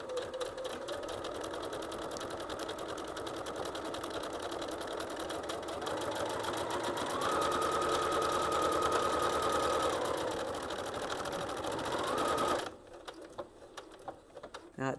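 A Viking Onyx 30 sewing machine stitches a buttonhole with a steady, rapid, close-up mechanical whirr. Its pitch shifts in the middle, and it stops abruptly near the end.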